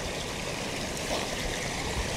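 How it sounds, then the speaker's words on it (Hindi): Water flows steadily in Madhav National Park, Madhya Pradesh, India, with a constant rushing, trickling sound, close by and uninterrupted. "अब पानी बहता हुआ"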